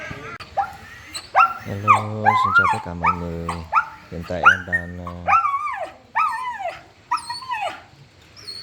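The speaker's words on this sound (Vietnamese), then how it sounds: "Đây, chó sang đây nha." A neighbor's dog, large with a round head, barks and whimpers repeatedly at close range in short yelping bursts, while someone talks over and between the calls.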